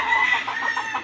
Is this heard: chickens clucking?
yes